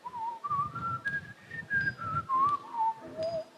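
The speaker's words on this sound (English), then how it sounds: "I can't believe I can whistle in tune." A person whistles a wavering melody, notes sliding up and down in a clear, close tone with soft breathy noise underneath.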